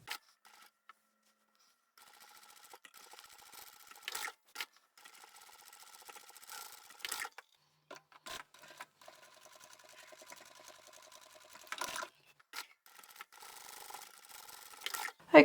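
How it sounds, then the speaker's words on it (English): Home sewing machine stitching across the box corners of a drawstring bag's fabric and lining, running in short, quiet bursts with brief pauses between them and no talking. "Let's sew up those corners."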